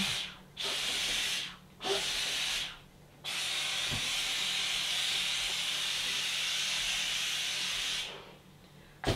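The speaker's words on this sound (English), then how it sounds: "just grab the steam cleaner and just as in the steaming method, just steam around it." A steam cleaner blasts a loud, steady hiss of steam over synthetic dreads in bursts, with three short hisses at the start, then one long continuous spray, and a brief pause before the hissing resumes.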